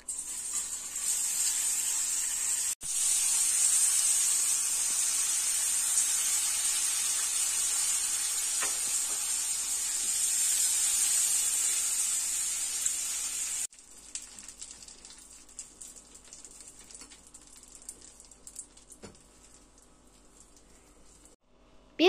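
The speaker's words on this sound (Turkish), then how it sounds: "Şekerimiz eriyor. 1 kaşık tereyağımızı ilave ediyoruz." Butter hitting melting sugar in a pan for trileçe sizzles with a bright, steady hiss that holds for about thirteen seconds, then drops to a quieter, thinner crackle after a stir, close and alone.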